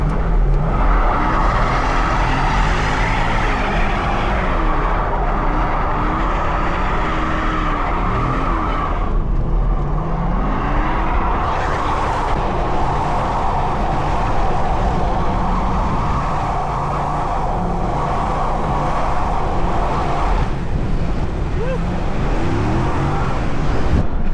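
A Chevrolet Corvette Z06 with upgraded power drives with a loud, sustained engine roar and continuous tire squeal, the pitch shifting as it accelerates and slows through turns, constant and close throughout with no talking.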